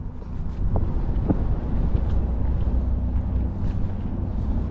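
A boat tows another engineless boat across a river, its low steady engine drone rolling on continuously under heavy wind buffeting the microphone.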